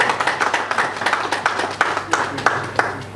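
A meeting of the UDPS youth league in Brussels, where a small crowd gives quick, uneven clapping with distinct individual hand claps, fairly loud and close, with no speech over it.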